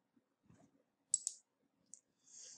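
Several sharp computer mouse clicks in a quiet room while selecting a contour option in drawing software: a close, crisp double click, then a single click, followed by a softer short rustle.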